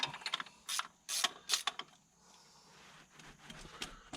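A ratchet wrench clicks in quick bursts while loosening a part on a 1964 Ford Fairlane 500 with a 289 engine, several close, crisp ratcheting runs separated by short pauses, with faint workshop rustle between.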